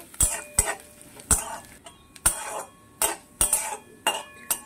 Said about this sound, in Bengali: ডালটা একটু লালচে লালচে হওয়া পর্যন্ত আমি একটু এইভাবে নাড়তে থাকবো।